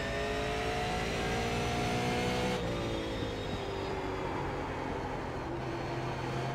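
A race car engine in iRacing on the paved oval at Kern County Raceway Park drones loudly and steadily at high revs, its pitch easing briefly as the throttle comes off before it climbs again.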